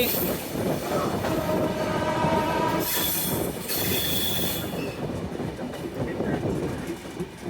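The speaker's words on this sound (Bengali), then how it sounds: "এমন গতিতে ট্রেন পয়েন্ট অতিক্রম করা আজকে প্রথম দেখা" A train rushes past at high speed over railway points, loud rumbling wheels and rattling cars with metallic squeals, close by and continuous throughout.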